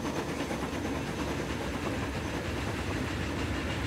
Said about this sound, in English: The A3 Flying Scotsman.